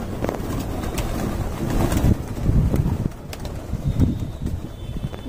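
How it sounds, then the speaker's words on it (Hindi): Pigeons coo and flutter close by amid a busy, noisy crowd, their soft calls rising in short bursts over a steady rumble of background noise. "अभी एक और कबूतर आई थी"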